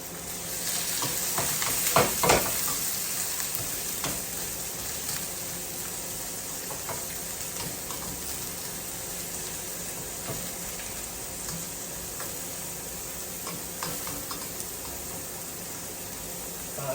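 Green and yellow peppers with tomatoes fry in an oiled pan for an omelette meal, giving a steady close sizzle throughout with a brief louder burst of stirring near the start.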